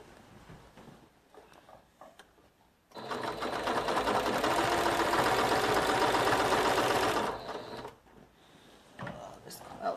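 A sewing machine stitches a large, heavy quilt border made quilt-as-you-go, running in a steady loud whir for about four seconds between quieter handling sounds.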